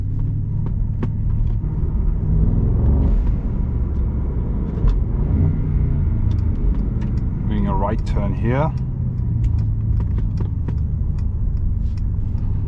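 Brabus SL GTS Rocket engine rumbles steadily from inside the cabin while driving, a deep continuous drone with a brief rising whine midway, under a man's speech.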